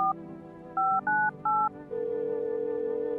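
DTMF keypad tones from a phone dialing a number inside a first-person horror game: a short tone, then three evenly spaced beeps, followed by a steady ringing or dial tone that continues to the end, with no talking.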